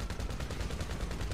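Rapid bursts of gunfire crackle in GTA Online, loud and close, with shots overlapping into a dense, continuous volley that barely pauses.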